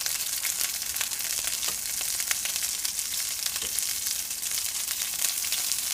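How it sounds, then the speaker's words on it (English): Battered oyster mushrooms shallow frying in a pan of oil, a steady close crackling sizzle with fine popping that continues evenly without pause. "Just let them cook. Because they're such a shallow fry, it'll make them flat on one side."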